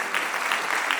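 Seminar attendees clap for an honoured colleague at an academic childhood-policy event, a short stretch of steady, fairly close applause from a modest crowd.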